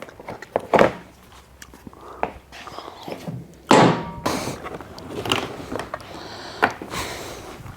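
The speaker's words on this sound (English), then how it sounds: "I got to take the seat and tank off first." Seat and fuel tank being taken off a 2024 KTM 300XC-W dirt bike: scattered thunks, clunks and rustling handling noises at close range, with a couple of louder bumps and no talk.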